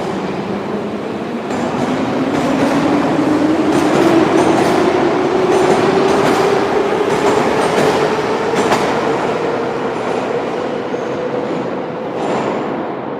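A St Petersburg Metro Orange Line (Line 4) subway train runs loudly and steadily, its rumble and rattling clatter joined by a rising motor whine as it picks up speed.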